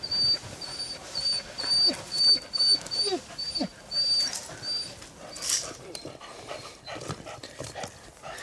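A drever hunting dog whimpers and pants close by after a roe deer hunt, with soft whines and breathy panting in irregular bursts over outdoor background noise.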